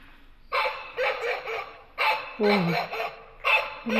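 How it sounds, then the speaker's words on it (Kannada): Several small dogs at a trending bus stop in Taiwan bark and yip in short bursts, repeated about five times, loud and close, with a whiny howl in the middle and no talking. "ನೋಡ್ರಿ ಡಾಗ್ ಸೌಂಡ್ ಬರೋದೈತಿ."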